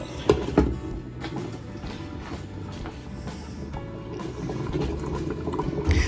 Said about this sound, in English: I'm gonna let these simmer for like 10 or 15 minutes